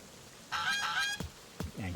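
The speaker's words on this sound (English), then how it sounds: "Angry bird noises." Angry bird honks in the video game CrossCode, a loud harsh goose-like call with two rising cries in the first second, followed by a couple of sharp thuds and a lower squawk near the end.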